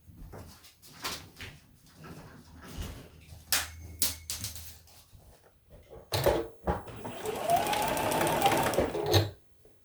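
Sewing machine running in bursts while stitching quilt blocks for a Christmas tree quilt, with a long steady whirring run near the end amid soft handling clatter.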